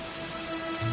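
Steady rain pours down in the video game Dragon Quest XI, a dense, even hiss of falling drops with a low tonal hum underneath, continuous throughout and alone without any talk.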